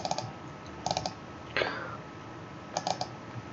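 A computer keyboard is used while working in Rhino and Grasshopper, giving a few short clusters of light key clicks with one longer swishing scrape between them, all close and fairly quiet.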